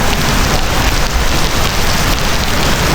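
Steady, dense rain pours down, hissing loudly and evenly on surfaces nearby for the whole stretch, with no talking.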